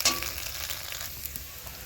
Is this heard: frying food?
yes